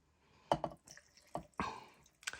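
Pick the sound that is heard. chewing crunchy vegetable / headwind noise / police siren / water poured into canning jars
water poured into canning jars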